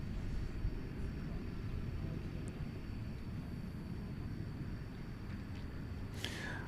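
A jet airliner descends to land at DFW Airport at night, a steady broad engine rumble and roar holding for several seconds with a faint whine above, distant and unbroken.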